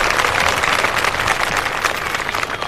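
Audience applause at an evening satsang in Chittorgarh, a dense, continuous patter of many hands clapping together, loud and close, sustained throughout without a break.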